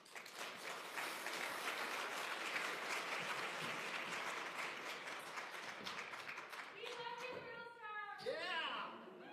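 A conference audience applauds a panel speaker, sustained and dense, then fades as a voice begins speaking near the end.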